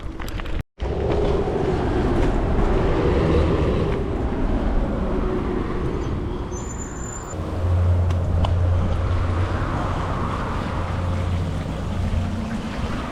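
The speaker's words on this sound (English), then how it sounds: "And now you got the sound of the cars." Traffic on a nearby road heard from a roadside camp spot on a Spanish bikepacking route: a continuous broadband rumble of passing cars with a swell around the middle as a heavier vehicle goes by, moderately loud, no voices.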